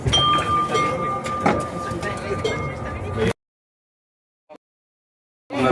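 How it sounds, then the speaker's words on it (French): A French TFS standard tramway runs with loud rumbling and rail clatter, then cuts to near silence before the rolling noise returns at the end. "je vous souhaite une bonne journée à bord de notre tramway TFS TW, tramway français standard"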